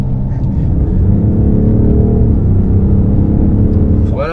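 A 2018 BMW X5 M50d diesel SUV accelerating hard in a race, a loud sustained engine roar and rumble from inside the cabin, steady throughout with no speech over it.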